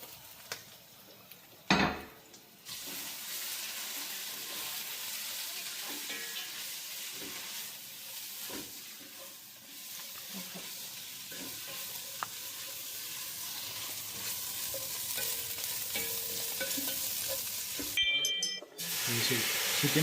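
Country chicken curry masala frying and being stirred in a pan, a continuous loud sizzle and hiss with utensil scrapes and clinks, starting after a brief knock.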